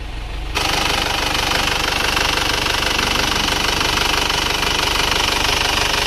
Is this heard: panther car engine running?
yes